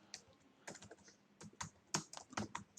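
Keys on a computer keyboard are tapped in short, irregular bursts of clicks, quiet and close, with no talking.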